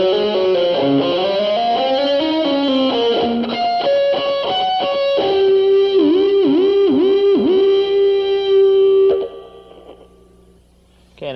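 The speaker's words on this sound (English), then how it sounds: "Now lick number 8 real slow would sound like this." Electric guitar lick played slowly, distorted, with bent notes, vibrato and ringing natural harmonics, sustaining loud and close before cutting off near the end.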